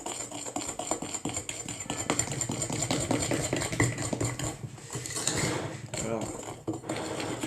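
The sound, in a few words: mixing chocolate cake batter with a spoon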